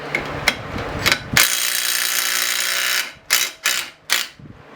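A cordless impact wrench (Snap On, Milwaukee or Dewalt) hammering on a fastener, a few short bursts, then a sustained rattling run of about two seconds, then three more quick close bursts.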